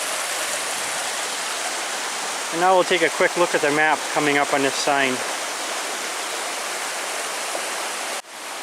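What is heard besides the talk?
stream flowing in the Porcupine Mountains, Michigan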